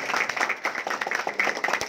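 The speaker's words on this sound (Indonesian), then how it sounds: "Tepuk tangan dulu untuk Glance." Audience applause at an Indonesian distributor training gathering, a small group clapping nearby with distinct, uneven hand claps and a few faint voices.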